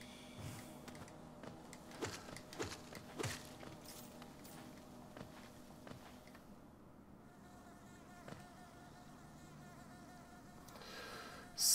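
Buzzing bees in the Hollow Knight video game, a steady insect drone with intermittent sharp clicks and hits, moderately loud and alone with no talk.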